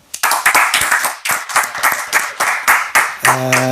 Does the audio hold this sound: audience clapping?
yes